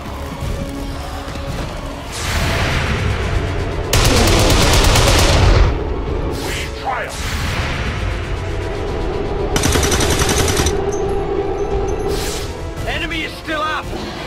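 Gunfire and explosions in the video game XCOM 2: War of the Chosen, loud bursts of automatic fire and blasts in several distinct volleys, with a voice speaking between them.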